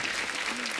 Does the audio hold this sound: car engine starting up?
no